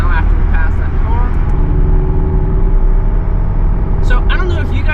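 Porsche 718 Cayman S engine and exhaust in sport mode, a loud, steady low drone and rumble from inside the moving car, with brief speech near the end.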